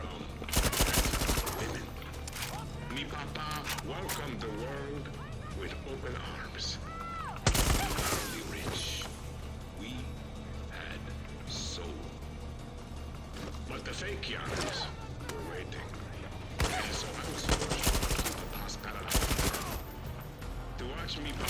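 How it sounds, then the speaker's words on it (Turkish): Heavy gunfire in the Far Cry 6 video game, with dense bursts of automatic fire and loud shots running throughout, punctuated by sharp blasts, while a voice speaks intermittently over the game action. "Biraz da baba silahlar kullanalım."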